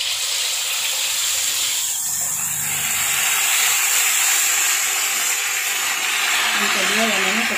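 Seasoned, pre-cooked chicken pieces sizzle and hiss steadily in hot frying oil, a dense, continuous crackle that holds at an even level, with a voice talking briefly underneath.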